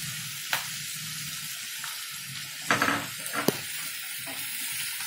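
Onions and sugar sizzle steadily in a covered pan as they brown. The even frying hiss is broken by a few sharp pops and light clinks of the lid or a utensil.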